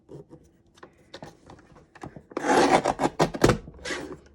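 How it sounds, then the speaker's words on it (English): A Tim Holtz Tonic Studios paper trimmer slides and cuts through paper with quick raspy scraping strokes, starting with light taps and then a louder burst of rubbing and slicing up close. "This is a handy dandy trimmer, this trimmer by Tim Holtz"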